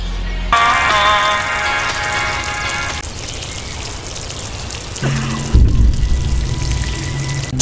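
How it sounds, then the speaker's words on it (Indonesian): Steady hiss of running water spraying down, with a brief tonal squeak early on and a thump midway, the flow continuing throughout. "Meskipun dengan shower seadanya, namun Melissa tetap mandi daripada bau kelek"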